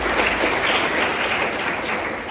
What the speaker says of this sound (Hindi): इस आत्मविश्वास के लिए एक बार फिर ताली बजाओ